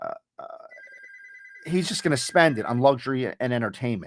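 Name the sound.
telephone ringing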